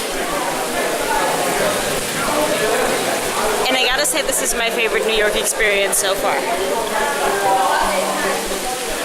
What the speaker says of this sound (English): I like a good rain.